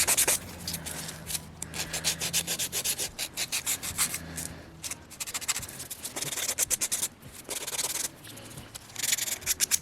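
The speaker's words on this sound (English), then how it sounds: "I'm just gonna continue with my buffing block." A buffing block is rubbed briskly back and forth across dip powder nails, making close, rhythmic scratchy strokes in quick bursts with short pauses between them.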